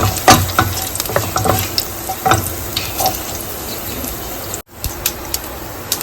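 Curry leaves sizzle and crackle in hot oil while being stirred for a curry, with bursts of spattering frying noise and a brief sharp drop near the end, no voices over it.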